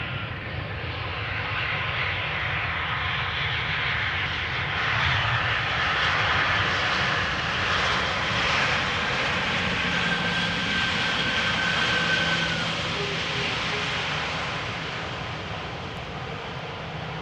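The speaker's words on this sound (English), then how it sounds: "A320 arriving in the SkyTeam livery from Paris Charles de Gaulle" An Airbus A320 in SkyTeam livery arrives at Amsterdam Schiphol Airport, its engines producing a loud, sustained roar that swells in the middle and slowly eases, heard alone without talk.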